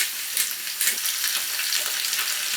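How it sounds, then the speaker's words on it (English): Steady, close sizzling and crackling of potatoes browning in a hot pan, continuous throughout with small pops and scraping textures. "The browning of the potatoes. That's the pan frying of it."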